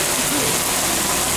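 Steady rain falls outdoors in a dense, even hiss across the whole moment, with a voice faintly present beneath the wash of water.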